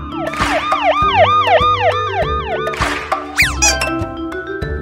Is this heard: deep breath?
no